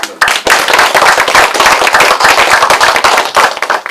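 Warm applause fills the hall at a national academic conference for the Kim Woo-jin literary festival, loud, dense clapping from a seated audience thanking the presenters and discussants, sharp close hand claps layered over a sustained crowd patter.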